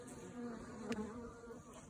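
A steady, close insect drone of many honey bees humming together on a hive frame, continuous and even throughout with no voices.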